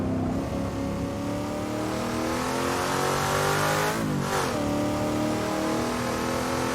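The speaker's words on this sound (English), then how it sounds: "We are on board Allan Moffat's XCGS 500 Ford Falcon hardtop" Allan Moffat's Ford Falcon XC GS500 hardtop racing at Mount Panorama, Bathurst, with a loud, steady engine roar heard on board, rising and falling through the gears, including a sharp shift and re-acceleration.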